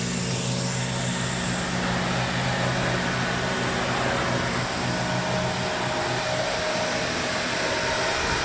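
A CNC machine running a cut, a loud, steady mechanical whir and broadband rush that holds continuously throughout with a faint tonal hum, no voices present.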